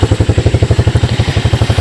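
A Honda ATC 125 engine runs close by with a loud, steady, rapid putter, even pulses thumping at a quick idle-like rhythm with no voices over it.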